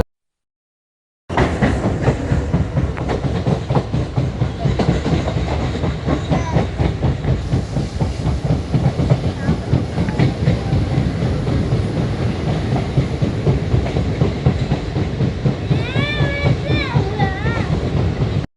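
A train crosses the Pamban sea bridge at Rameswaram close by, its wheels clattering in a steady rhythmic beat for most of the clip, with a brief high squeal near the end.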